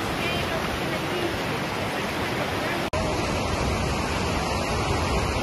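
A river stream runs in Lynmouth, Devon, as a loud, dense, continuous rush of water that fills the whole clip, with one brief dropout midway.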